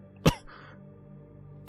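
A man performs a short, harsh cough during Spanish audiobook narration, a single burst near the start followed by quiet room tone and the onset of another sound at the end.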